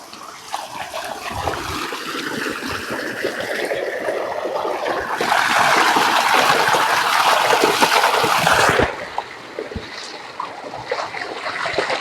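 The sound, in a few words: water running as the speaker gets a drink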